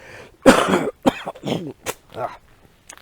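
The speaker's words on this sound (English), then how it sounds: "I'm back to coughing again." Several harsh coughs in a row, close and loud, with short pauses between bursts and a softer throat-clearing at the end.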